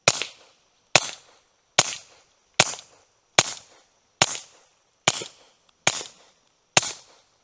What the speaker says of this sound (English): First round pop was a little bit louder on the Hush Point.